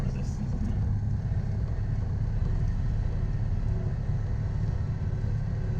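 Citroën 2CV with a dogleg gearbox, hired in France, driving along with a steady low drivetrain rumble and whine that carries on without a break, loud and close inside the cabin.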